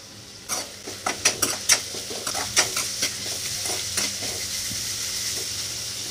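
Fried onion stirred in a pan for palak paneer: a run of distinct metal spoon scrapes and clinks against the pan, fairly close, over a soft low sizzle that continues after the stirring stops.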